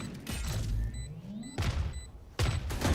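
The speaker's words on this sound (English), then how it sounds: "All missiles away." Missile strike explosions in the Valorant video game: several deep booming blasts a second or so apart, with whooshing sweeps and metallic ringing between them, at moderate loudness.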